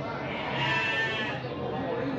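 Sheep bleating at a livestock market in Andir, Bayongbong, Garut, a sustained nasal bleat rising over busy crowd chatter and voices nearby.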